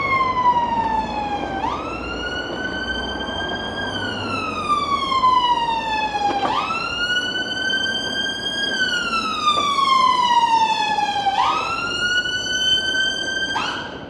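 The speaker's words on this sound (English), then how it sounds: "That was an ambulance." A wailing emergency siren sweeps up and down in long repeated cycles, loud and continuous over steady traffic rumble, like an ambulance driving past.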